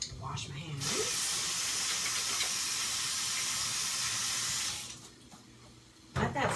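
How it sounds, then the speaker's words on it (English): Olive oil sautéing in a pot over rising heat gives a steady broadband sizzling hiss that holds loud for several seconds, then drops away, with faint kitchen handling noises at either end. "Let that saute for a little bit."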